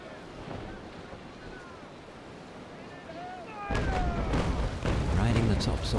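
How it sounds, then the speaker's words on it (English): Ocean waves wash against a sailing warship at sea in the naval combat game Naval Action, a steady surf and wind rush that swells louder and denser partway through, with faint creaks and tonal effects over it. "Riding the tops of waves."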